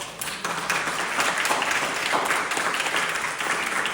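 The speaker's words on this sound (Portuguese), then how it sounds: "Vamos aplaudir essa palavra?" A church congregation applauds during a sermon on salvation, a steady wash of many clapping hands held at a moderate level for about four seconds.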